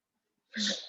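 A single sharp sneeze bursts out during a yoga class after a moment of near silence, soft and somewhat distant.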